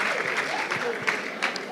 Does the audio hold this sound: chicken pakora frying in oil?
no